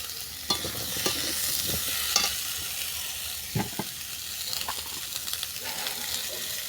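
Betua (bathua) greens stems and tomato sizzle in a pan for a chorchori, steady frying hiss broken by repeated scraping strokes of a stirring spoon, close and moderately loud with no talk.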